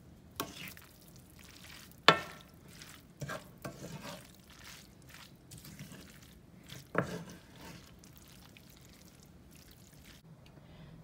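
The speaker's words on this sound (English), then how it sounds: "I'm gonna stir this up. Mix that sauce in." Veggie lo mein noodles get tossed and stirred with sauce in a pan, irregular quiet clacks and scrapes of a utensil with brief wet slaps between soft gaps, close but low in level, no one speaking.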